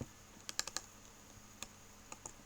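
Keys clatter on a computer keyboard while an Office 365 password is entered, a quick cluster of crisp clicks followed by a few sparse, separated taps, close and fairly quiet with no talk.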